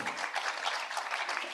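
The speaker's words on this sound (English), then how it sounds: "Can we please have a big round of applause?" Audience at an HR excellence summit and awards evening applauding, a dense, steady wash of many hands clapping that stays even throughout.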